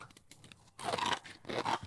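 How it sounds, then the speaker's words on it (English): Crunching on crispy, still-warm curry ramen chips, with two loud bursts of close chewing crunches after a quieter start, no talking. "The crunch is like echoing through my head."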